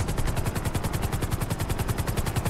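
Helicopter in GTA 5 hovering to land, with loud, steady rotor chopping in a fast even rhythm under a deep engine rumble, close and continuous without talk.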